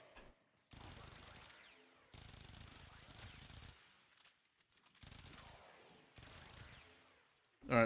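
Bursts of automatic gunfire from a shooter video game, body shots fired in several separated volleys of a second or so each, fairly faint with short silences between.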